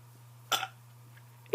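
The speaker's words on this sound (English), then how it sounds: "You gonna burp?" A child gives a short, close burp, followed a second later by the start of another abrupt burst, in an otherwise quiet room.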